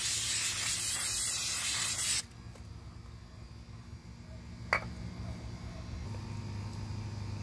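Aerosol spray of clear coat onto a Chevy bowtie emblem gives a close, steady hiss for about two seconds, then stops, leaving quiet room noise with a faint brief click.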